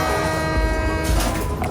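A large train passes close by in Thailand with a broad, loud rumble and a steady metallic hum, rolling and rattling continuously for a brief stretch.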